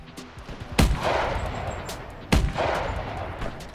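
Two loud rifle shots fired at a whitetail buck in the hunting video game theHunter 2017, each a sharp crack followed by a rolling echo, about a second and a half apart.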